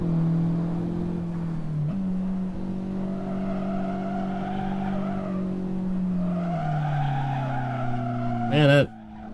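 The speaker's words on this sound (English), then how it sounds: "Man, that braking, like sliding out." A race car's tires squeal and slide under hard braking during NASA practice at CMP, a loud sustained howl shifting pitch for several seconds before a sharp final scrub.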